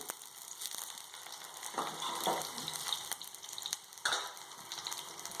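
Chopped onions fry in hot oil in a pan, a continuous close sizzle with occasional stirring scrapes and swells, no voices over it.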